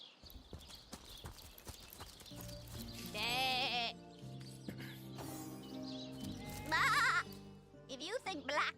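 Sheep bleat in short wavering cries over clip-clopping hooves and background music in the game Divinity: Original Sin Enhanced Edition, with a couple of louder bleats standing out.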